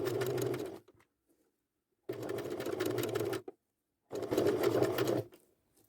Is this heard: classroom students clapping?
no